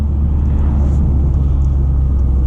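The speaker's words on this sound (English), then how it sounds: "I'm sure you all can hear that glorious turbo intake spooling whooshing sound coming from the car." A 2023 Toyota GR Corolla fitted with an MSD Performance cold air intake gives a steady, loud, close turbo-and-engine rumble with a faint airy whoosh, constant across the short stretch.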